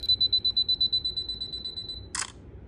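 Canon G7 X Mark II compact camera counting down its self-timer with a rapid run of evenly spaced high beeps that speed up and blur together, ending in a short click of the shutter, close and clear with no talking.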